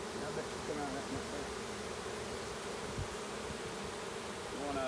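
A dense, steady buzz of a honeybee swarm fills the air, continuous and fairly quiet, with faint muffled voices underneath.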